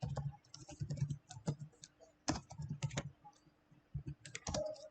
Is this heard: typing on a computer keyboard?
yes